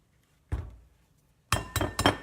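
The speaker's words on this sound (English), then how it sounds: "we're gonna crack our eggs in here." Eggs are cracked into a bowl for lemon blueberry bread: one sharp crack against the rim, a pause, then a quick run of three close knocks, all loud and near in a quiet kitchen.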